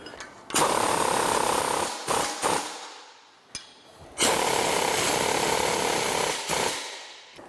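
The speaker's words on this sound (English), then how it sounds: "And then we're going to tighten all these bolts up." Bolts being tightened on a SnowBear ProShovel snow plow mount, heard as loud, sustained bursts of harsh mechanical whirring and rattling, separated by short pauses and a sharp click, with no talking.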